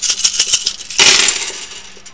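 Runes and dice clatter and rattle close by: a run of light clicks, then a bright cascade of small hard pieces tumbling together onto a surface that slowly fades out.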